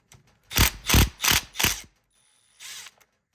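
A ratchet wrench works on the valve cover of a 2022 Kawasaki KX250 motorcycle engine, giving four quick, loud bursts of ratcheting clicks close by, then one softer burst after a pause.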